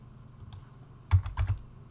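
A few quick clicks on a computer keyboard while dual lands are searched in MTG Arena, a short burst of close keystrokes after a quiet stretch, with no talking.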